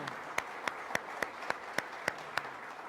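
A church congregation applauding the team, heard as a slow, regular run of single sharp claps about every third of a second over a soft room hum, fairly faint and with no talk.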